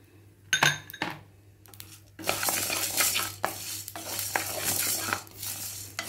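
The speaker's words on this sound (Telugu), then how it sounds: "ధనియాలు వేస్తున్నాను, కొంచెం ధనియాలు, జీలకర్ర కలిపింది." Coriander seeds and cumin seeds rattle into a pan and are stirred, with a few sharp clinks and a sustained sizzling scrape, close and fairly quiet.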